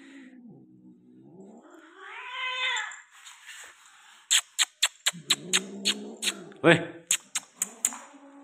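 Cats yowling and caterwauling during mating, drawn-out wavering cries that break into a run of sharp clicking taps, close by with low voices murmuring underneath.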